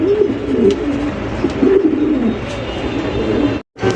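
A male pigeon coos nearby in low, rolling, repeated phrases, loud and close, ending with a brief cut of silence.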